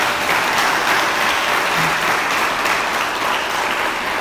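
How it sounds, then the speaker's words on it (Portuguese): A church congregation gives a loud, sustained round of applause for Jesus at the end of a sermon, with the clapping holding steady and close throughout. "Dê uma salva de palmas para Jesus."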